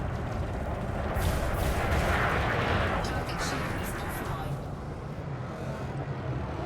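Weapons fire at targets in Elite Dangerous: a dense, steady roar of rapid shots and rumbling blasts that swells in the middle and stays loud throughout, with no distinct pauses.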